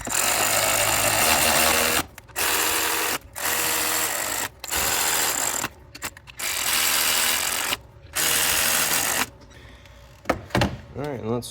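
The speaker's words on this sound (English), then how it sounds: "Or you can go ahead and just use an electric ratchet as long as you don't go crazy with them." Electric ratchet tightening spark plugs on a Chevy Trailblazer engine: a loud, steady mechanical whirr runs in about six bursts of roughly one to two seconds each, separated by short pauses, then ends with a few brief clicks and rattles.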